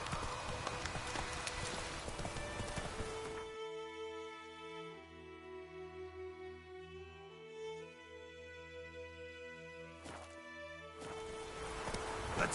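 Hooves of Roach, a horse galloping in The Witcher video game, clop steadily at the start and again at the end, with a sustained musical passage filling the middle.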